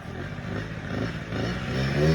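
A Honda Dio scooter engine idling and running nearby, a steady low putter that gets slightly louder toward the end.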